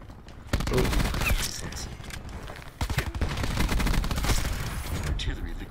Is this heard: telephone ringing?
no